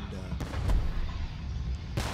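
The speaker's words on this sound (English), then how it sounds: "cannon galleons shooting down the low HP villager" Cannon galleons fire at a villager in a strategy video game, producing a few sharp booming shots spaced irregularly over a low background rumble.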